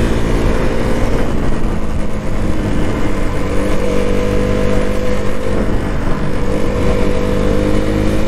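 A KTM Duke 200 motorcycle engine, an older model with noticeable vibration, runs with a steady, loud, rough drone that holds near-constant throughout, with a sustained rasp rather than distinct rev peaks.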